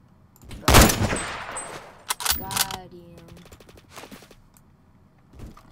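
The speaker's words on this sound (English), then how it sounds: "Oh wait, they're shooting at the ground" Gunfire in a Roblox game: a loud burst of rapid shots, then a second sharper volley, with a voice briefly heard and a few faint clicks trailing off.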